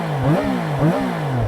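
A Triumph Trident 660 motorcycle engine fires up and revs a few times, rising and falling in pitch, loud and close with a rough, throaty rumble.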